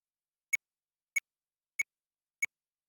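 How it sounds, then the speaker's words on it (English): Four short, evenly spaced metronome beeps from an SP-404 sampler, crisp and faint, each one isolated in silence about 0.6 seconds apart. "You can hear the metronome beeping in the background right now."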